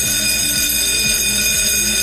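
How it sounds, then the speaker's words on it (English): A continuous fire alarm bell rings steadily and loudly, a sustained high-pitched tone with no pauses and no voices. "the fire alarm bell will be ringing."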